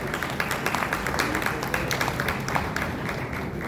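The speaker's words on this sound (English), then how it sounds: "Let's have a huge round of applause, ladies and gentlemen." An audience at the Anuga FoodTec India 2025 awards ceremony claps, a dense, steady wash of many hands that holds at an even level throughout.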